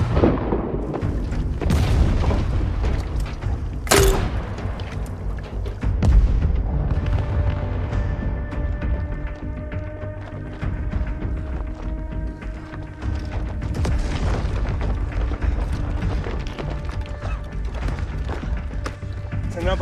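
Army artillery guns fire outdoors, sending out heavy booms and thuds over a continuous low rumble, with a sharp blast early on and voices of soldiers audible among the firing.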